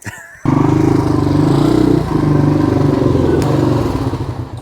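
A Kawasaki KLR dirt bike engine starts abruptly and idles loudly with a rapid, rattling putter, revving slightly before settling, close by.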